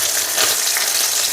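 Homemade shawarma filling fries in a pan with a dense, continuous close sizzle, an even hiss of bubbling oil with faint stirring, and no voices.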